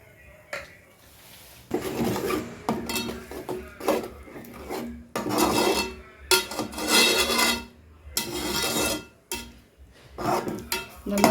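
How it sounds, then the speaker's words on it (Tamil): Cooked rice being stirred into egg masala with four eggs in a pan, with repeated scraping and clanking of a utensil against the pan in bursts separated by short pauses, close and fairly loud. "இது நல்லா வெந்தது, சாப்பாடு போட்டு கலரிக்கலாம்."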